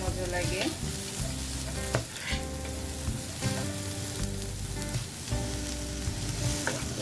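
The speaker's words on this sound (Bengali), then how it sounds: "দেখতে পাচ্ছেন পেঁয়াজগুলো আমি হালকা ভেজে নিচ্ছি" Sliced onions fry lightly in a little oil for jute greens (paat shaak bhaja), a steady close sizzle with stirring scrapes, continuous and fairly loud throughout.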